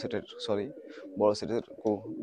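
Benaras pigeons cooing close by in a Khulna loft, several soft rolling coos in quick succession with short pauses between them.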